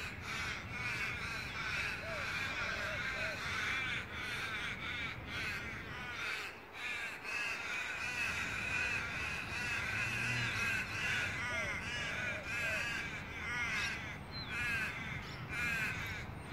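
Many crows caw repeatedly from up in the trees, harsh calls overlapping continuously at moderate distance over steady outdoor background noise.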